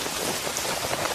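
Steady rain pours down on farm crops, a dense, even hiss of drops that fills the whole short stretch without pause.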